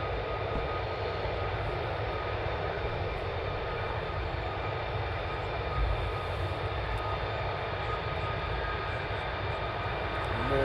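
F-15 jets taxiing at RAF Lakenheath give a continuous, dense engine roar and whine that holds steady at moderate distance throughout, with no voices.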